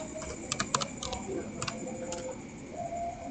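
Computer keyboard keys tapped in a short burst to enter a command on a Cisco router console, several quick close clicks followed by a pause and a few more taps against a quiet room.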